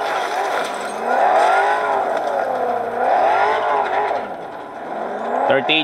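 A car being driven in a realistic driving video game, its engine droning steadily and rising and falling in pitch in long waves, with the game's background sound underneath.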